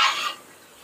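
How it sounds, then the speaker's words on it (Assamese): Broiler chicken meat frying in a home kitchen pan gives a brief burst of sizzling with a stirring scrape, loud at first and then fading quickly to a soft hiss. "এইফালে এতিয়া মাংস বনাই আছে ধুনীয়াকৈ"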